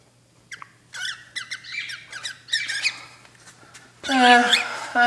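Sharp, loud squawks from an agitated pet bird come in choppy bursts up close, building to a long harsh screech at the end, with a person talking softly in between.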